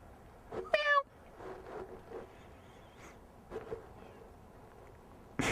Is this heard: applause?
no